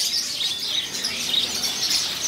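Many canaries chirp and trill together in a bird shop kiosk, a continuous bright chorus heard on its own without talking.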